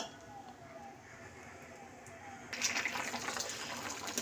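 Water heats in a cooking pot with cardamom added, giving a steady rushing hiss that swells louder and brighter partway through as the boil builds.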